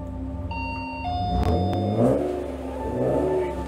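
A customer's car pulls up outside, its engine rumbling and briefly revving at moderate distance, with a few clear chime-like tones ringing over it.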